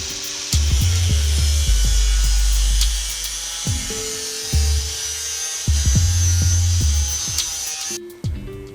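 A power tool cuts a leftover steel roofing panel for a lightweight tiny house roof, giving loud repeated cutting bursts with a grinding whine and brief pauses between passes.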